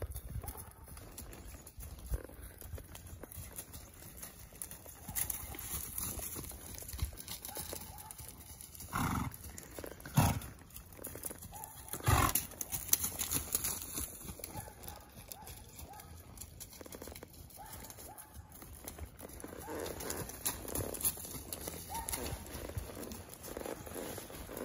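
Horses walking outdoors in the cold, hooves clip-clopping in a loose steady rhythm with a few sharper knocks midway, close by, over wind-like background noise.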